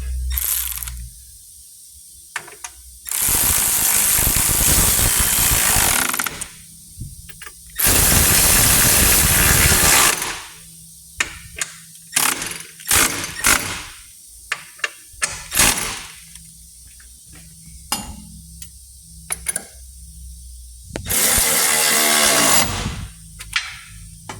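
A socket ratchet tightens 16 mm and 13 mm step rail bolts on a 2019-2023 Ford Ranger. It gives bursts of loud, rapid clicking separated by quiet pauses, close and alone.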